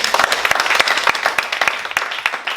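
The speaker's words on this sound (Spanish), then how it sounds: "Denle un aplauso a Dios, hermano." A church congregation claps in a short, dense burst of applause, loud and near, with scattered individual claps standing out.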